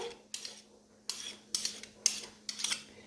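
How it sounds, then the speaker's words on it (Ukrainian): Utensils scrape and clink against a bowl as a salad is tossed with mustard, five or six separate mixing strokes close up with short pauses between them and a faint steady hum underneath. "перемішую все це."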